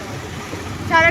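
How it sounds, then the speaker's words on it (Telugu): Evening road traffic with many vehicles passing gives a low, continuous engine rumble and wind-like noise. A short, bright horn-like tone rises near the end. "ఇక్కడ వెహికల్స్ చాలా వెళ్తున్నాయి ఫ్రెండ్స్"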